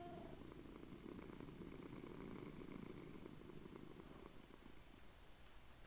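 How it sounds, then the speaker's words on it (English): A Minecraft cat purrs softly and continuously, a low, rumbling in-game loop that stays steady and faint with nothing else over it. "I love the purring it does."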